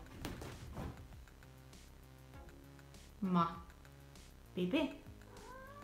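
An indoor cat gives two short meows, fairly close and clear, with someone talking quietly before and between them.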